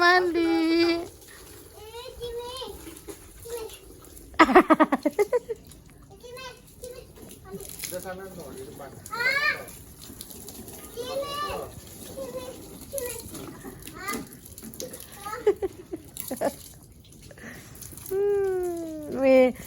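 Steady hiss of a water hose spraying while a motorbike is washed at home, with a small child and an adult talking, squealing and laughing over it throughout.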